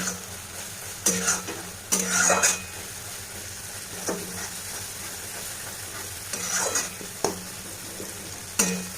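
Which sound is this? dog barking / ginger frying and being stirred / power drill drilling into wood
ginger frying and being stirred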